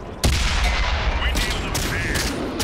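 A heavy tank cannon shot booms in World of Tanks, followed by rumbling engine noise and scattered distant impacts, with faint talk under it.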